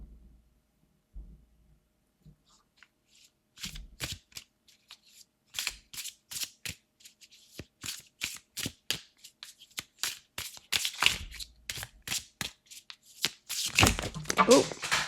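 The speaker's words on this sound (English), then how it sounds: "a bunch of cards fell on the ground" Tarot cards being shuffled and dropping to the floor, soft rapid riffling flicks and scattered slaps that build into a dense flurry near the end, with a quiet voice early on.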